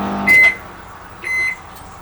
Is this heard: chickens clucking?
no